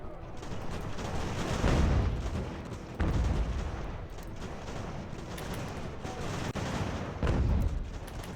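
Musket volleys in Ultimate General American Revolution during a sea invasion battle near Cambridge, continuous crackling gunfire with several heavier booming bursts rising above a steady din.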